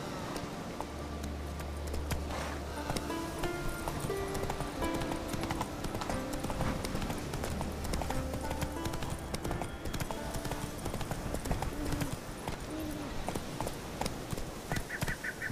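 Horse hooves clip-clop at a steady gallop as Roach is ridden in The Witcher 3 game, moderately close over a busy outdoor ambience with occasional faint bird calls.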